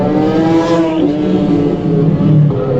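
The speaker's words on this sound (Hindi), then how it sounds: "देखिए रेसर बाइक्स जा रही हैं, देखिए कैसे सर्र आवाज जा रही है" Racer motorbikes streaming past one after another on a road in Ghaziabad, a loud continuous engine roar and whine that swells and holds without a break.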